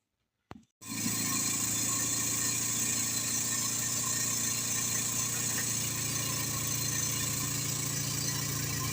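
A hydraulic press starts up for pressing a bronze tube fitting, its motor running in a steady, loud, continuous drone with constant vibration after a brief click at the start, no talk.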